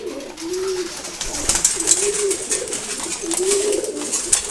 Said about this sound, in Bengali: মাশাআল্লাহ, চমৎকার এক জোড়া কবুতর, নর কবুতর।